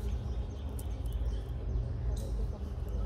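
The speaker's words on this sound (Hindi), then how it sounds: "कोयल की, पंछियों की आवाज़ आ रही है," Birds call in a forest, including an Asian koel, as scattered faint high chirps over a dense, steady outdoor background with murmuring voices.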